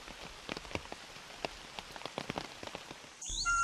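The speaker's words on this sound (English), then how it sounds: "The rain brings life-sustaining water to the forest." Monsoon rain falls in a forest, a soft, steady patter of drops striking leaves and ground, with a brief different sound cutting in at the end.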